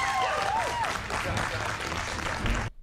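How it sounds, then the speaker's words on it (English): Applause for the top 10 contestants in a MasterChef cooking competition rolls on steadily under a talking voice, then cuts off abruptly. "Give yourselves a round of applause"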